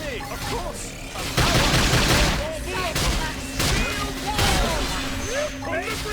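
Rapid gunfire in the Xenoblade Chronicles X video game, loud volleys of shots and impacts in irregular bursts, with voices speaking over the fire and music.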